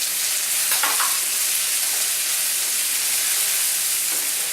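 Minced ginger and garlic sizzling in hot oil for a Kerala-style asparagus thoran, a loud, dense, continuous hiss held evenly from start to finish, with a brief scrape early on and no talking.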